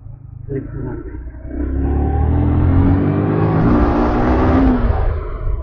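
A car engine revs hard as the wheels slip in thick mud, the roar climbing and holding loud and close for several seconds before easing slightly at the end.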